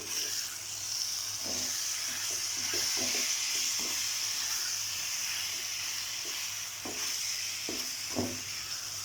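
A chicken burger mixture stirred in a pan over very low heat, with a constant sizzling hiss and scattered scraping clicks from the spoon against the pan, close and without talk.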